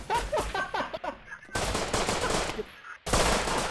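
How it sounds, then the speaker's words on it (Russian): Automatic gunfire in the video game Rust as players shoot at barricades during a 12 vs 12 base rush, loud and dense, coming in bursts with a short pause near the middle. "эти баррикады расстреливают"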